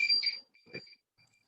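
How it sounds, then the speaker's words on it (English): Short electronic beeps during an online presentation, a pair of bright tones followed by a fainter, shorter beep, thin and clear against near silence. "Rajiv, can you confirm if that beep is coming up too much?"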